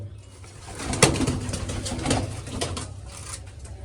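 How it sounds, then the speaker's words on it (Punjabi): Pigeons, including a black Chinese pigeon, coo softly in a rooftop flock, with a sharp wing flap near the start and further rustling wing beats. No voices are heard. "ਉਧਰ ਬਈ ਨਵਾਂ ਕਬੂਤਰ ਆ ਗਿਆ ਕਿਸੇ ਦਾ ਆ ਫਿਰਦਾ"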